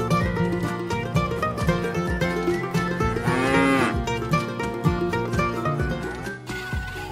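Toy buffalo in a toy animal truck sounds off with a loud mooing bellow, played over a busy musical backing with no speech.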